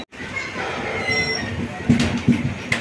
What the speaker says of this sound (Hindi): ये विजयवाड़ा का स्टेशन है और यहाँ पर 5 मिनट के लिए ट्रेन रुका है।